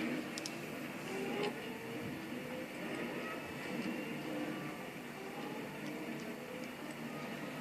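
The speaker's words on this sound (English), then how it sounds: "we should have clearance through this intersection right after that tram goes to the intersection" Tram rolling through a street intersection in the Trainz railway simulator, a steady low rumble with faint wheel and rail noise throughout, moderately quiet with no talking.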